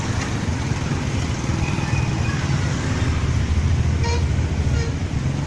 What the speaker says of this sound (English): only because the traffic was so bad they had no choice but to stop